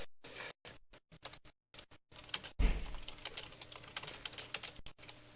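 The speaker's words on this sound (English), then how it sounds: "As I'm sure you guys heard the keyboard there." Rapid clicking of keys on a really old computer keyboard, irregular bursts of typing with brief pauses, close and fairly quiet, no voices.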